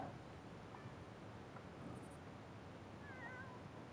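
A cat in the video game The Sims 4 gives a couple of faint, brief meows over a quiet background hiss.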